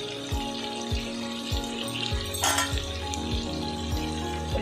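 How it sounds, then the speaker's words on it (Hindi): Biryani frying in a pot with yogurt and ginger-garlic paste, a continuous close sizzle and hiss with a brief louder spurt midway, under a faint repeating low background tone, with no one talking. "इसको अब हम अच्छे से भून लेंगे अदरक लहसुन के और दही के साथ।"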